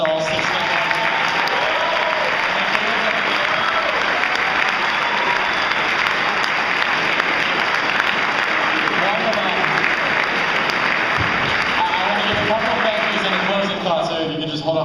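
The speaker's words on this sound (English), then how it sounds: "Can we give one big round of applause to all 6 members?" An audience at a mayoral candidate debate applauds steadily for about fourteen seconds, a dense wash of clapping that fades slightly at the very end.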